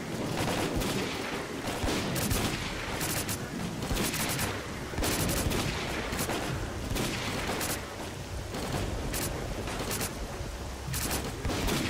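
Sustained gunfire in S.T.A.L.K.E.R. Call of Pripyat, a dense, continuous barrage of overlapping shots and bursts at steady loudness for the whole stretch, with no talk.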